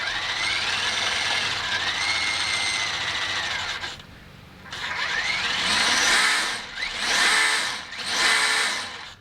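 RC crawler truck motor whines loudly near at hand, its pitch rising and falling, cutting out once, then surging in several long swells.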